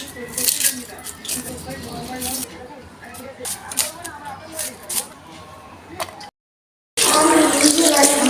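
Rice being washed by hand in water in a home kitchen, with steady sloshing and splashing, clinking of a pot and running water, while someone talks over it.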